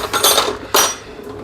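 A container and a spoon are handled in a kitchen, giving two quick clattering knocks of utensil against dish, close and fairly loud with no talk.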